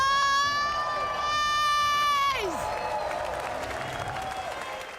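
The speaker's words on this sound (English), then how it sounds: "we want to hear an even bigger cheer for the Nations Cup Grand Final" A large crowd cheers and applauds loudly in a big arena at the Gran Turismo World Series Nations Cup Grand Final in Los Angeles, with a sustained high whistle-like tone cutting off partway through.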